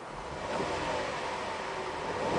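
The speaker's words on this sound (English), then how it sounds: "I'm going to rev it." A 2007 GMC Arcadia's 3.6 V6 engine revs up and holds at higher speed, a steady mid-pitched roar close by with no talking.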